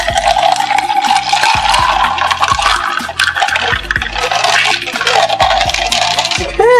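A mamajuana mojito pours noisily back into a container, a loud continuous gurgling splash with bubbly, rising tones as it fills.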